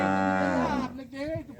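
A cow gives one long, loud, close moo that falls in pitch and then trails off into a shorter, lower bellow, alone with no talk.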